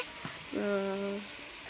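Okra frying in a pan on a clay stove, with a soft sizzle under a brief tonal hum.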